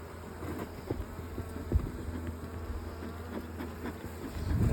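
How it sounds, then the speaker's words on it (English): Honey bees hum steadily around beehives near lavender in May after being calmed with smoke, a soft continuous buzz with occasional louder passes of individual bees close by. "So now I've got these nice docile bees"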